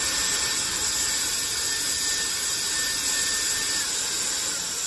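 A steady, fairly quiet Swissliss Cloud Edition hair dryer whirs on continuously, a smooth airy hum with a faint high whine, no voices.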